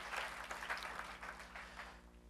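Congregation applauding in a church during a New Year's Day service, dense continuous clapping from many hands with a low steady hum underneath.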